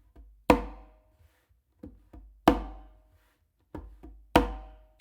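Congas play a sparse funk fill, loud close slaps ringing out every couple of seconds with quieter fingertip ghost taps in between, heard alone in a quiet room.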